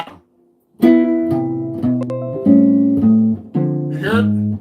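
Jazz shell voicing chords on guitar, played without bass notes: a sequence of sustained, close, fairly loud chords changing every half second or so, with a short pause before they begin.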